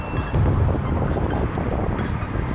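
Wind buffets the microphone while cycling uphill in Sapporo, Japan, a loud steady rushing roar with low gusty rumble throughout and no talking.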